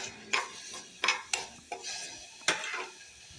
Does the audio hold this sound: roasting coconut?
yes